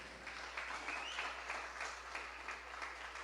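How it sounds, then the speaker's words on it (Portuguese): A church congregation claps together in a steady, continuous round of applause, moderately loud and filling the room, with no voices standing out above it. "Vamos aplaudir o Senhor, né, pela vida do Samuel."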